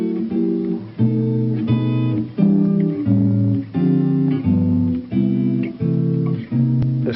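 Jazz guitar strums a full chord progression at slow ballad tempo, about eight warm chord hits each ringing roughly a second, close and solo with no voices.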